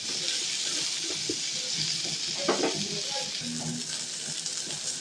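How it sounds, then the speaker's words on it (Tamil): Onions sizzle steadily while sautéing in a pan, a continuous bright frying hiss with occasional stirring scrapes and a faint voice underneath. "இப்போது இந்த வெங்காயம் கண்ணாடி பதம் அளவுக்கு வதங்கினா போதுங்க."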